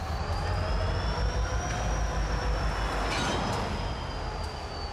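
Yadkin Valley Railroad diesel locomotives, five engines coupled together, move slowly while power is shuffled around the yard. A steady low rumble runs throughout, with a faint metallic whine above it and no voices.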